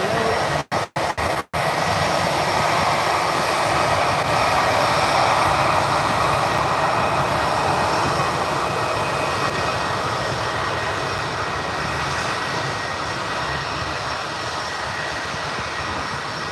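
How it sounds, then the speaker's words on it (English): An EasyJet Airbus A319 takes off at Birmingham, its engines a loud, sustained roar filling the whole stretch after a few brief dropouts at the start. "Just the A319 EasyJet heading out over to Belfast"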